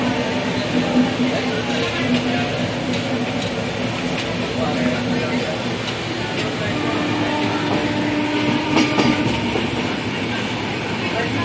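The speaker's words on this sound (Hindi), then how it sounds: "तो ये है हमारी ताज एक्सप्रेस।" The Taj Express passenger train runs on its rails near the Taj Mahal area, giving a steady, continuous rumble with faint clickety-clack and a low hum throughout, while a voice speaks over it at times.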